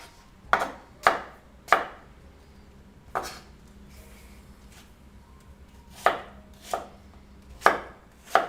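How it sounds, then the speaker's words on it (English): Knife chopping apples for homemade apple fritters on a board, with sharp, close, separate thunks coming in small clusters and quiet pauses between them. "Cutting the apples for the fritters."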